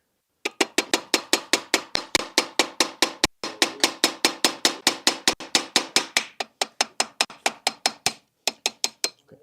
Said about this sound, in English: you can use a hammer or something that you prefer